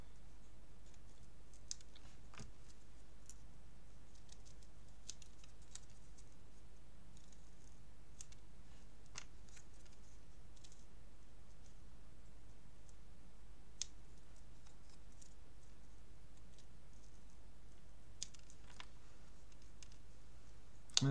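Faint, scattered snips of scissors trimming paper strips, a few sharp clicks spaced seconds apart over a quiet steady hum.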